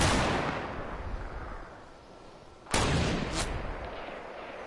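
A single sharp sniper shot rings out in an online shooter game, a sudden loud crack with a brief echoing tail, followed by a second fainter report over a steady rumbling game background.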